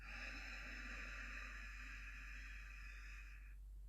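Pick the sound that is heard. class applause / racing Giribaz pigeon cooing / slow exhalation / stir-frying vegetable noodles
slow exhalation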